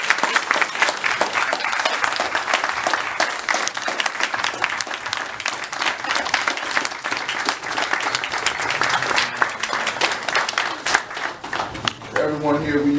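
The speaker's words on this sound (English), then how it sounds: "I believe you deserve a round of applause" Sustained, loud applause from an audience at an inspirational gathering, dense clapping filling the room for a long stretch before fading near the end.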